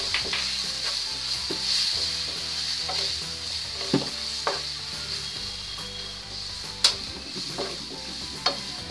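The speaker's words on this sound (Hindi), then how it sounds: "अब हम इसमें टमाटर ऐड कर देंगे सारी कटी हुई हरी मिर्च ऐड कर देंगे" Tomatoes and chopped green chillies frying in a hot spiced masala for aloo gobhi, a steady bright sizzle with a spoon stirring and scraping the pan, several sharp clinks of the utensil against the pan, no talking.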